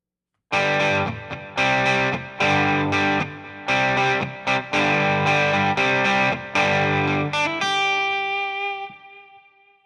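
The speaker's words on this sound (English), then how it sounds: "Let's add some reverb to this." Distorted Ample Sound AGRB virtual Rickenbacker guitar with reverb added plays a quick series of bright, crunchy strummed chords, then a final chord rings out and fades into a reverberant tail.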